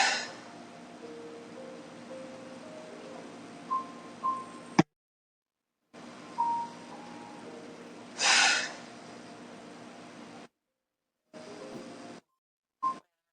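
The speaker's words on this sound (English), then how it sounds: "take a deep breath in and start our 3 breaths to breathe this out" Slow, deep breaths in and out during a guided healing meditation, soft airy exhalations separated by silent gaps, with one stronger rushing breath in the middle.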